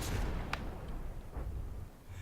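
Slow, heavy cannon fire sounds in the naval combat game From the Depths. One sharp boom lands near the start and a duller thud follows later, over a constant low rumble of engine and sea noise.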